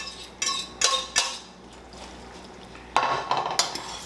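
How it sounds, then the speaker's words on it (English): Drained noodles being stirred together with a meat mixture for goulash in a pot, with scattered clinks and scrapes of a utensil against the cookware, each brief and close, separated by short pauses. "Give it a stir, mix everything around."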